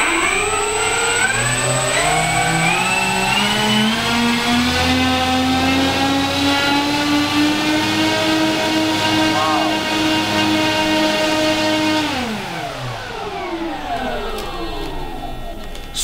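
Electric motors spinning large props on an RC BlitzRCWorks Super B-25 Mitchell model plane during a ground thrust check, a loud steady whine that rises, holds, then winds down near the end.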